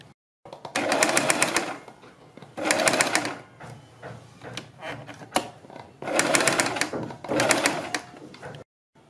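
A sewing machine runs a stitch along the folded edge of a neckline, four loud bursts of steady whirring with quiet pauses and small handling noises between them.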